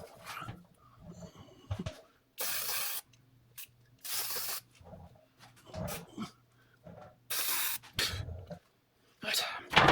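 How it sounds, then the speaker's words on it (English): Aerosol penetrant hisses onto bolts on a Jaguar S-Type R in several short, sharp bursts, separated by quiet shuffling and someone talking in between. "I better put some penetrant on those."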